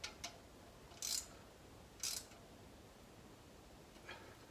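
A torque wrench ratcheting on bolts during an LS 5.3 engine swap into a 1981 Chevy C-10, giving a few short, quiet ratchet bursts about a second apart.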